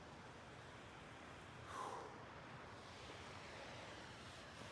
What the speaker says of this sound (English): enjoying the sound of the river